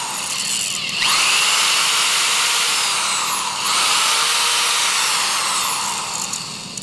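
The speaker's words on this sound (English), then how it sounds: "Use the same drill that we used before, the smaller one." A smaller power drill bores screw holes at close range, running loud and steady in two long bursts with a brief dip in speed between them, and no voices over it.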